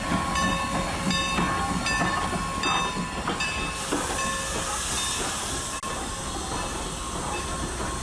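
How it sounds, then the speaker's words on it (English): An excursion train pulls into a station near the Norfolk and Western 611, a steady close rumble and hiss with bright tonal squeals and clanks, no talk. "one of the excursion trains was also pulling into the station"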